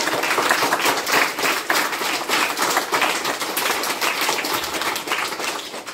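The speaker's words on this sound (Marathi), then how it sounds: "मग एकदा मनोज भाऊंसाठी जोरात टाळ्या होऊन जाऊ द्या." A crowd of schoolchildren at a Zilla Parishad school birthday celebration in Nirgudi claps loudly and steadily, a dense rattle of many hands that runs without a break from start to finish.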